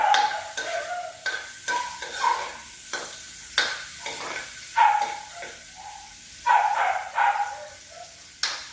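Onion sautés in oil in a pan, a soft sizzle punctuated by intermittent scraping stirs and light utensil knocks that come in uneven bursts, with no voices.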